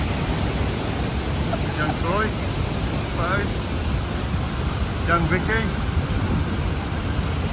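Tegenungan waterfall in Bali pours with a steady, broadband roar that fills the whole stretch, while several people chat and call out names over it.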